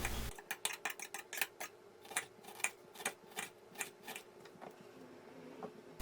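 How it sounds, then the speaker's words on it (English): A knife chops washed dill, parsley and coriander leaves finely on a board for a stuffed-vegetable filling, giving a quick run of crisp, close taps that thin out and fade near the end. "Cut the leaves into very small pieces after washing."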